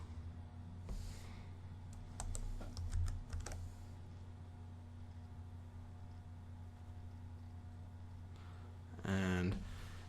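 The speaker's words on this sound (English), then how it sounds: "I'm going to type side view." Computer keyboard typing while text is entered into a drafting program's editor box, with a short cluster of light key clicks early on, a brief louder burst near the end, and a steady background hum throughout.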